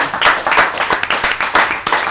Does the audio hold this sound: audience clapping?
yes